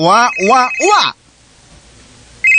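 A telephone rings with repeated electronic trills, loud and close, then stops abruptly before a brief tone at the end.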